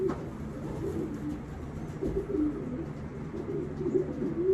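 Racing pigeons in a loft give soft, low repeated coos that rise and fall over a muffled background, close and fairly quiet.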